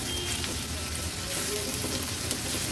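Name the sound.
onion frying in oil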